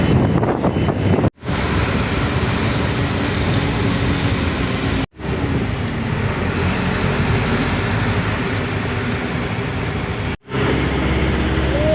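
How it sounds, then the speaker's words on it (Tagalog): Loud, roaring typhoon wind buffeting a phone microphone in Cebu, continuous rumble broken by two or three brief dropouts. "malakas yung hangin inililipad yung cellphone natin"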